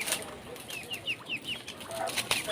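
A rooster and two Talisayin hens cluck and call in quick, chirpy bursts close by, with a few sharp higher calls breaking through the outdoor background.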